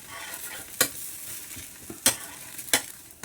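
A jowar flour dosa roasts on a hot pan after being flipped. A soft, steady sizzle runs throughout, broken by three or four sharp scraping strokes of a spatula.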